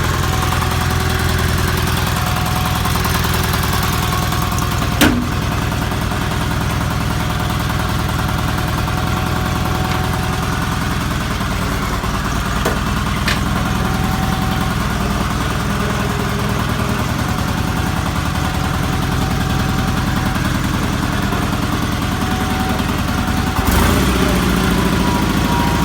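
A diesel-converted Roper RT16T clone garden tractor engine idles steadily nearby, a continuous low chugging drone with a few faint knocks.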